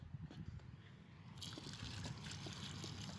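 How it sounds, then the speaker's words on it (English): A gallon of water pours into a dusty bag of Quikrete concrete mix, sloshing and trickling steadily at close range, growing fuller and brighter partway through, with no talk over it. "Gallon of water goes into"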